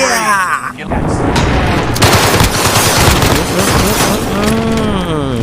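Rapid, continuous gunfire from a gun being test-fired, with dense bursts filling nearly the whole stretch loudly and close, a brief dip near the start before the shooting resumes.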